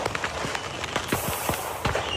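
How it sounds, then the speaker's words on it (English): Fireworks going off from a burning truck that was hauling them on a Tennessee road, heard as a rapid jumble of sharp pops and crackles with whistling streaks, steady and fairly loud throughout. "a truck hauling fireworks exploded, sending pyrotechnics into the sky"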